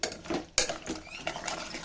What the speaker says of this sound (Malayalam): നല്ല പോലെ ഇളക്കി കൊടുക്കുക